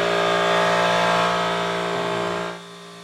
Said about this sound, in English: Our air compressor is trying to get us started.